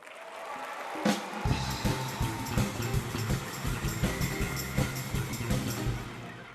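An event audience claps for a live house band at a startup competition finals, a dense roll of applause rising quickly and continuing throughout.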